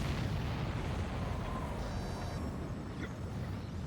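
Explosions in the aerial combat game Ace Combat 7: Skies Unknown make a dense, continuous, rumbling roar of blasts, with a brief thin electronic tone sounding midway.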